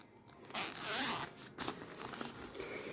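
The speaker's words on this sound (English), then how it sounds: "And it comes with your zipper." A zipper on a travel bag is pulled open in several long rasping strokes, close and fairly loud, with a brief pause between pulls and no talking.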